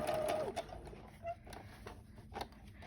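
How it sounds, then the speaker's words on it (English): A sewing machine top stitches pin tucks on a fabric face covering, running slowly in short uneven bursts of light mechanical clatter at close range. "So you top stitch down all of your pin tucks."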